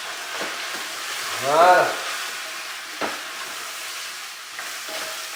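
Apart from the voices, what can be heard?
sizzling in the pan after removing the lid, artichoke barigoule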